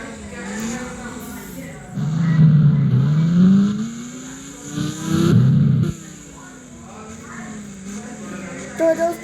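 A motorbike engine in the mobile game Indian Bike Driving 3D revs and drones with rising and falling pitch in loud surges, while a person talks over the game sounds.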